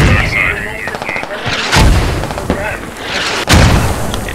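Mortar impacts and gunfire in the military shooter Squad: rattling shots mixed with heavy, booming blasts, three prominent thumps spaced about a second apart, loud and close, with voices talking over the combat.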